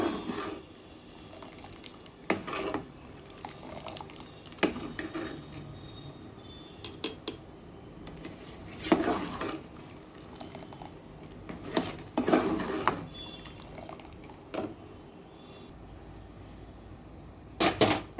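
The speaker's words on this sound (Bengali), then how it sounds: "পেকটিন, আমের রস, পাল সব এবার আমি এইভাবে খুব ভালো করে নাড়বো।" Thick mango juice and pectin mixture stirred in a pot, a spoon scraping and knocking in repeated bursts of clatter over a steady low background, fairly quiet.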